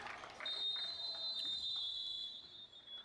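End-of-quarter buzzer at a junior national boys' basketball game sounds as a long, steady electronic tone over arena crowd noise and commentary.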